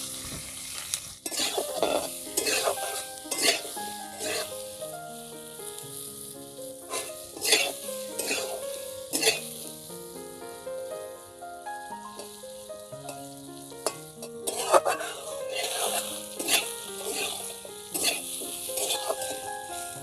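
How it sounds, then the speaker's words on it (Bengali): Cut potatoes frying in a pan while being stirred, with continuous sizzling and repeated spatula scrapes and clinks. Background music plays throughout. "এবার কেটে রাখা আলুগুলোকে আমি ভেজে নেব।"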